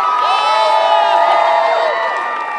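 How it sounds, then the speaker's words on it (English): Big crowd at an America's Got Talent event in New York cheering and whooping loudly, with sustained high shouts and wavering yells rising and falling close by throughout. "What's it like seeing this amazing crowd behind you?"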